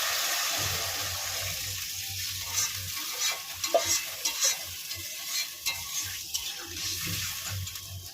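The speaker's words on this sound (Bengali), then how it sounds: "এবার জল দিয়ে দেবো।" Water poured into a hot pan of ground garam masala spice mix bubbles and hisses loudly, then settles into a steady simmer with intermittent sloshing, clinking stirring strokes.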